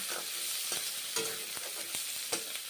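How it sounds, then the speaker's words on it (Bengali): Onions sizzling in hot oil, a steady frying hiss broken by several sharp scrapes and clinks of stirring in the pan. "এখন পেঁয়াজগুলো ভেজে নিচ্ছি"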